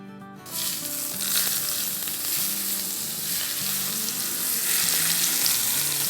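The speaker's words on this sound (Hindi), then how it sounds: "ये देखें ज़बरदस्त सा हमारा तड़का लग गया।" Tempering of spices poured into hot oil for a yogurt and bottle gourd curry, a sudden loud sizzle bursting in after half a second and crackling steadily, with light stirring clinks underneath.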